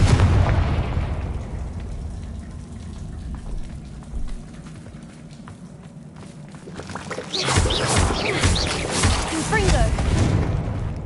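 A Confringo spell blasts through a barrier in Hogwarts Legacy, starting with a rumbling blast and crackling debris, then a louder burst of magical crackle and clatter near the end, with game music and voices in the mix.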